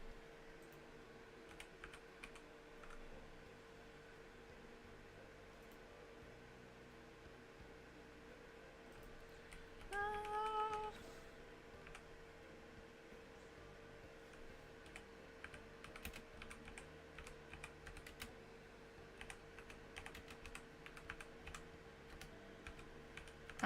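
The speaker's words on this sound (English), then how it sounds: "I'm typing with one finger." Someone pecks at a computer keyboard with one finger, producing sparse, irregular key clicks over a steady hum of room noise, with a brief louder burst partway through.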